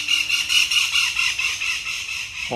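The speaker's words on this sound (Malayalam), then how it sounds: "കിളികളുടെ ശബ്ദം." Shrill, high-pitched bird calls repeat in quick rhythmic bursts, fairly close and loud, with no voices.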